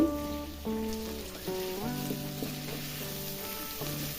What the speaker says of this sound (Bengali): মশলার সাথে আলু আর কুমড়োটা খুব ভালোভাবে নাড়াচাড়া করে মিশিয়ে নিয়েছি